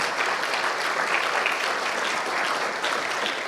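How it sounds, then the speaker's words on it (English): An audience at a school fundraising breakfast claps steadily and fairly loudly for about three and a half seconds, a dense, even patter of many hands with no voices on top. "Let's give them a round of applause."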